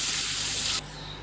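Water gushes into a pot, a bright, close splashing hiss for under a second before cutting off, leaving a low background hum.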